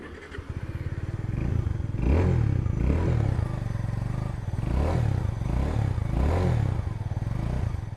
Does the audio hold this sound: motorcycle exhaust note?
yes